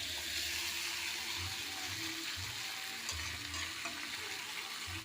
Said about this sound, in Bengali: এখন জল দেওয়া পরিমাণ মতন